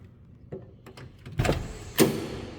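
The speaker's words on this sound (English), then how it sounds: "Look at that, power windows." A few short mechanical whirs and clunks close by, with two louder bursts near the end, as the power windows of a 1972 Pontiac Grand Prix SJ motor and stop.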